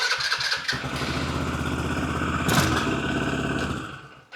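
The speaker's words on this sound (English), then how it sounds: "So anyway, this engine is great. It starts first try every time." A four-wheeler ATV engine cranks and catches on the first try, then idles with a steady, close, loud running note and a brief mechanical clatter before cutting off near the end; no one speaks.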